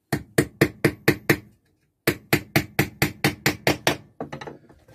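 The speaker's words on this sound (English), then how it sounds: "Put our little hammer, tap that in." A small hammer taps a panel pin into a piece of wood, a close, crisp run of six quick strikes, a short pause, then about eight more even blows ending in a few softer taps, with no talking.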